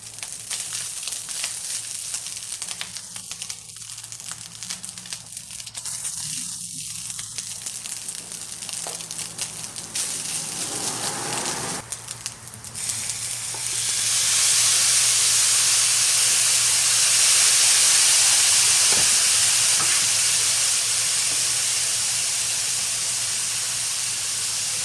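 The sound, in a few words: rice frying and sizzling in a pan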